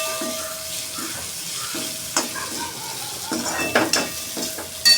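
Potatoes fry in a pan with a light sizzle while a spatula stirs them, producing repeated metallic scrapes and knocks in an irregular rhythm, close and clear, with no speech.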